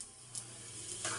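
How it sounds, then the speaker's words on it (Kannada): Cinnamon, cardamom and cumin sizzle in hot oil, a soft, faint hiss with a few brief crackling bursts as the whole spices hit the pan. "ಎಣ್ಣೆನೂ ಕಾದಿದೆ. ಬಟ್ ಇದಕ್ಕೆ ಚಕ್ಕೆ, 2 ಏಲಕ್ಕಿ, ಜೀರಿಗೆ,"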